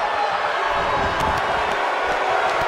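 A wrestling arena crowd in WWE 2K18 roars in a dense, continuous wash of cheering and noise, loud and steady throughout a barbed-wire match.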